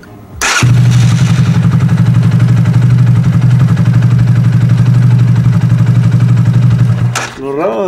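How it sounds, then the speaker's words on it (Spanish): An Italika Z-250 motorcycle that stalls and has a fuel feed fault starts at the push of a button after a short crank. It then runs steadily and loudly close by for about six seconds, and the engine cuts off near the end. "Lo raro de este caso es que prende muy al botonazo la moto."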